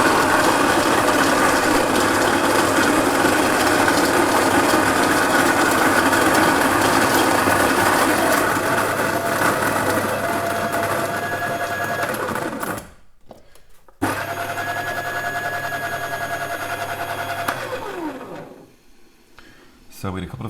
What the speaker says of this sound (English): So I'm just going to grind this really coarse.